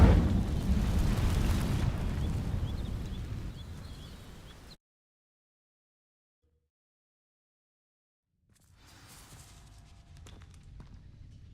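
Incendio fire spell igniting dry vines in Hogwarts Legacy, a loud burst of roaring crackling flame that fades over several seconds, followed by silence and then faint rustling and footsteps.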